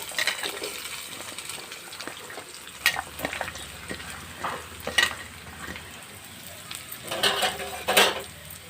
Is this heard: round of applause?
no